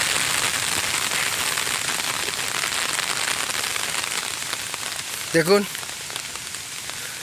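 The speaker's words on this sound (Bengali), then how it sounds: "এর মধ্যে শুরু হয়েছে জোরে বৃষ্টি" Heavy rain pours steadily on a road beneath a tall hill near Konglak on a rainy-day hike, a dense broadband hiss throughout, with a brief voice cutting in near the end.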